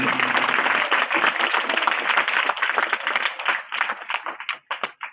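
An audience claps at an anti-drug awareness seminar in Mehandipur village near Nawanshahr, dense loud applause that thins into scattered individual claps at the end.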